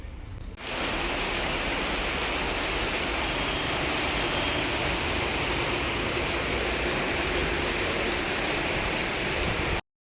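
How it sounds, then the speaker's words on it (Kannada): Heavy rain starts pouring over a home garden, a dense, constant roar that begins abruptly after a brief quieter moment and holds loud and steady for about nine seconds before cutting off. "ನೋಡಿ ಎಷ್ಟೊಂದು ಜೋರು ಮಳೆ ಸ್ಟಾರ್ಟ್"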